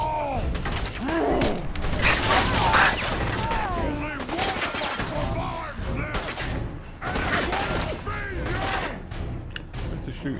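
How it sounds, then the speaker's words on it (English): Dense Fallout 4 gunfire rattles in rapid bursts, with machine-gun volleys and mechanical clanks layered over game ambience. The firing runs almost continuously and loud throughout. "Where's the shooting coming right up here?"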